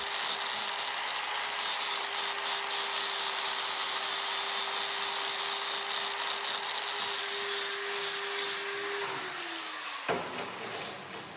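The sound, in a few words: shaping raw wooden blocks into a knife handle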